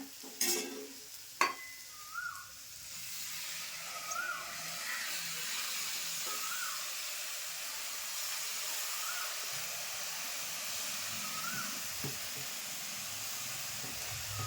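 Cowpea leaves stir-fry in a pan over fried dal, a quiet continuous sizzle with a few early clanks of the spoon and faint scraping stirs throughout.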